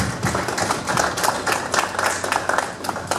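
A round of applause from the audience at a panel event on Black male mental health, a dense, even spread of many hands clapping together that holds steady throughout.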